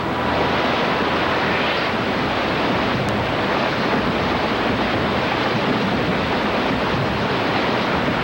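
Rushing river rapids churn around a kayaker in a loud, dense, unbroken roar of white water with no clear pauses, heard up close and carrying heavy wind buffeting throughout.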